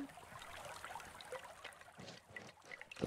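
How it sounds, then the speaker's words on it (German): Plants being watered in the video game Garden Witch Life, a soft, continuous trickle and pour of water with slight splashy surges, fairly quiet and steady with no talking. "wo ich gerade das Wasser sehe, kann ich hier auch nochmal gießen"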